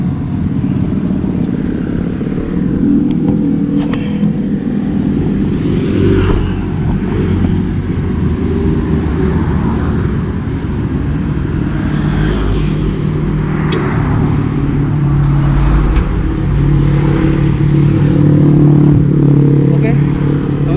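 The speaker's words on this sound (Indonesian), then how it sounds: "karena jalur ini ramai banget, tetap saja ya suara kendaraan masih santer terdengar" Loud, constant roadside traffic beside a busy main road before dawn, with cars and motorcycles rumbling past in an unbroken wash of engine noise, while a person talks over it.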